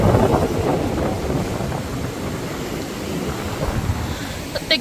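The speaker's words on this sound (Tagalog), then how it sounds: "Tignan nyo, ang lakas ng hangin." Strong wind buffets the microphone while waves wash onto a shore near a river mouth strewn with washed-up trash, a steady broadband roar with no voices.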